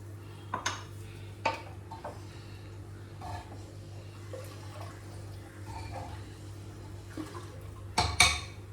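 Rice gets mixed with water in a pot, with a spoon scraping and clinking against the metal in scattered soft strokes over a low steady hum, quiet and close, ending in a sharper clatter.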